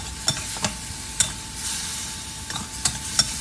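Beef stir-fried with spices, krachai, sugar and water in a pan, a low steady sizzle with a handful of crisp scraping strokes of a spatula at irregular intervals, close and with no talk.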